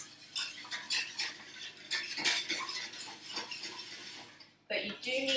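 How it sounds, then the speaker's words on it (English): A whisk beats a lasagne white sauce of milk over low heat, rapid metallic clicking against the pan in a busy rhythm, which pauses briefly near the end before resuming. "Now, you whisk it, stop the lumps."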